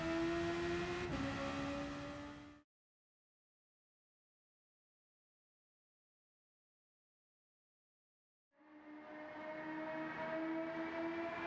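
A 1966 Honda S800 in Gran Turismo 7 droning with a steady, tonal engine note that cuts out to silence for several seconds, then returns at a similar pitch.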